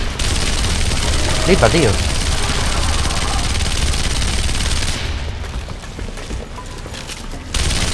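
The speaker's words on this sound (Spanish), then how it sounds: "No mueren con la ametralladora." Sustained machine gun fire in the video game Sniper Elite: Nazi Zombie Army, a loud continuous dense rattle that eases off partway through and then resumes, with someone talking over it.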